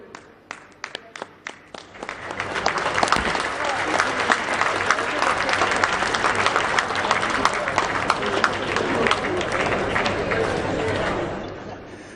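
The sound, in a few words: crowd applauding at PM Modi rally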